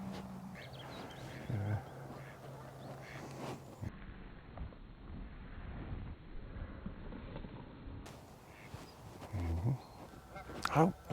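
Ducks near Kilchurn Castle give faint, scattered honking calls at a distance, mostly in the last few seconds, over outdoor ambience with some quiet talk.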